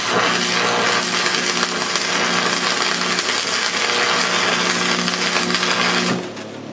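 Arc welding on a Briggs & Stratton engine being converted from gas to steam: a loud, steady crackling buzz close by that runs without pause, then cuts off near the end.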